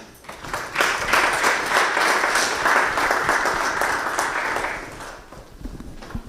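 Sustained audience applause at a National Science Week event, greeting a speaker being introduced; dense clapping swells in, holds steady for several seconds, then fades out.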